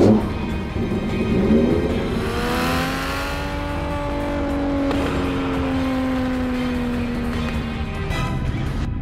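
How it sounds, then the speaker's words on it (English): A custom turbocharged Volvo hot rod with an 800 horsepower engine races on a private track, its loud engine note rising and falling in pitch as it accelerates and passes by. "800 horsepower engine and spits flames."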